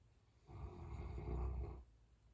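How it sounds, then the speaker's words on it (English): A person snoring once in a single long, low rumbling breath lasting over a second, fairly close and alone in a quiet room. "Still snoring."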